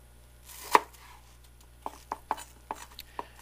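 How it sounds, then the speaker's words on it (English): A knife chops green tomatoes and apples for vegetarian mincemeat on a cutting board, one firm thud followed by a run of lighter, evenly spaced chops, close and otherwise quiet. "As I get the tomatoes and the apples minced, I throw the pieces into a large cooking pot."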